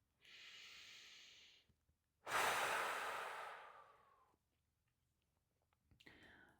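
A single deep breath taken slowly in, then released in a long, breathy exhale, close and quiet, followed by a brief soft breath sound.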